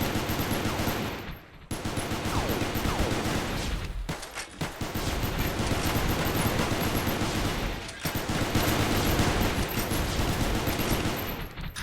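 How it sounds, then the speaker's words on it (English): Dense, sustained bursts of L6 machine gun fire in a Space Station 14 game round during a crew's last stand, a loud continuous cacophony with brief gaps near two and four seconds. "Just a cacophony of the L6 shots is such a beautiful sound."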